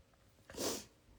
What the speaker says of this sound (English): First the sneezes and then the cough.